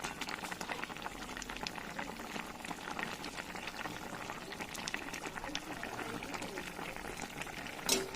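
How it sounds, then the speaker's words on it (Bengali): Hilsa fish curry simmering in a pan with coriander leaves added, a steady low bubbling and faint stirring scrape that runs evenly throughout, with a brief sharper knock near the end. "একটু তরকারিটা নেড়ে দেবো।"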